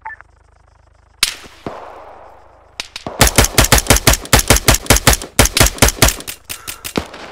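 Gunfire in Arma 3 during a hostage extraction: a few loud single shots, then a long rapid string of sharp, close automatic bursts with brief pauses and a final scattered shot.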